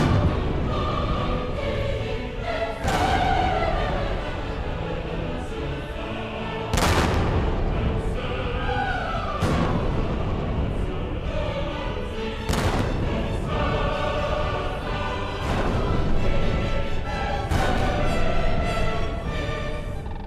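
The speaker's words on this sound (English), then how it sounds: "A moment not lost on the governor, who salutes the party with 7 of these cannon" A gun salute of seven cannon for an exploring party in northern wilderness country: a series of loud, heavy booms spaced a few seconds apart, each decaying into a rumbling echo over a steady background.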